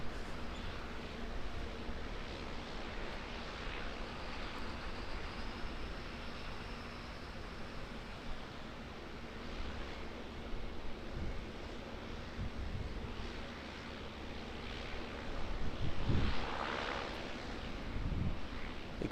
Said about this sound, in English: A great takeoff indeed. 777 is on the roll.